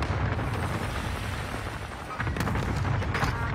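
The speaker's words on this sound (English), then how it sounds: "Allied cluster strike arriving." In a first-person shooter game, an allied cluster strike lands as a dense, continuous rumble of overlapping booms. It pounds heavily throughout, with sharper crackling bursts toward the end.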